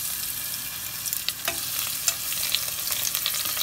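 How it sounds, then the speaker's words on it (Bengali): Garlic dropped into hot oil in a pan sizzles steadily, with a soft frying hiss and light stirring scrapes throughout, close and fairly loud, no voices. "আমি একটু রসুন দেবো"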